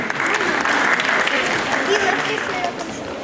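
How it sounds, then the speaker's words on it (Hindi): Loud, continuous applause from an audience at a Hindi comedy stage show, dense clapping filling the whole moment with faint crowd murmur underneath. "जोरदार तालियां।"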